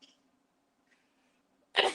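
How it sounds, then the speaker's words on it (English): A close, loud single sneeze bursts out abruptly after a quiet indoor stretch with faint background sounds. "Oh, I guess I'm going to sneeze."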